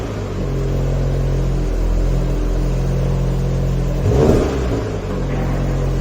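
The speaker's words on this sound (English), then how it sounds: "So now let's hear the sound of the car." A 2022 Volkswagen Golf GTI with a sportier exhaust idles with a low, steady rumble in a showroom, then gives one short rev that swells and drops back to idle.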